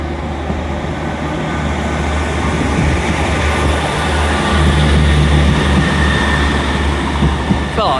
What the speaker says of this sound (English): Departing now is the Northern Trains 158, working a service to Morecambe, 158 794.